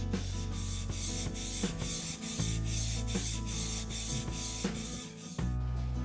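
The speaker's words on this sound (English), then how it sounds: "I've been working this chisel on this 1000 grit Pride stone for less than a minute" A steel chisel is rubbed back and forth on a 1000 grit Pride whetstone in steady, rhythmic gritty strokes, faint and close, with a low hum running underneath.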